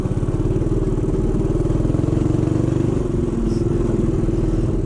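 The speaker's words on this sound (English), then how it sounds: "The bike's sounding good. It's idling again." A motorcycle engine idling on a desert canyon trail, a steady loud close throb with a fast, even pulsing beat throughout and no talking.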